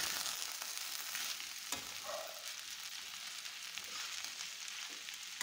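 Chorizo and nopales frying slowly in a pan over low heat, a faint, steady sizzle and crackle throughout, with a soft scrape of stirring partway through and no voices.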